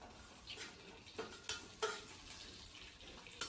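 Green chillies fry in a tablespoon of oil in a kadai, giving a faint, soft sizzle broken by a few light scrapes and clinks of a spoon against the pan.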